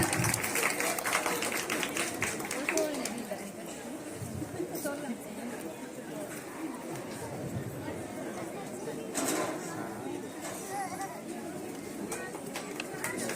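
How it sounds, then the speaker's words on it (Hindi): Applause at a school retirement ceremony for a language teacher, with an audience clapping steadily throughout, mixed with chatter and voices nearby. "जोरदार तालियां बेटा।"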